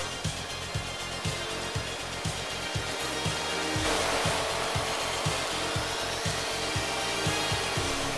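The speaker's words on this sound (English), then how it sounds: "Tread mortises for stair stringers are cut by the K2 to exacting tolerances." A Hundegger K2i joinery saw machines tread mortises for stair stringers in timber, with a loud continuous mechanical roar and regular rhythmic thumps, the tone brightening midway.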